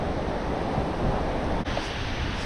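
Ocean waves wash on a Southern California beach as a continuous loud broadband roar of surf and wind, with a brief dip near the end.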